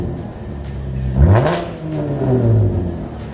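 A car fitted with an X-Force straight pipe exhaust revs loudly up close, the engine note climbing sharply in one strong burst, then settling into a rough, rumbling idle with a second smaller rise.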